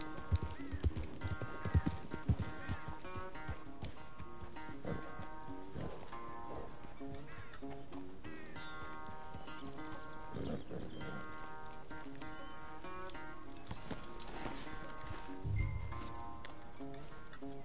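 Horse hooves clip-clopping in the Red Dead Redemption 2 video game, with a few distinct hoof thuds early on, then softer beneath steady game music and a brief low rumble near the end.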